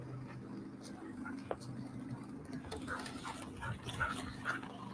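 Dogs pant and give small whimpers indoors, soft and intermittent with scattered light knocks and faint background noise, a person speaking at moments.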